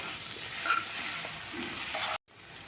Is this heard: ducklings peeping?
no